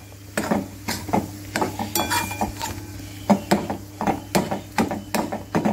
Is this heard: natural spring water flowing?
no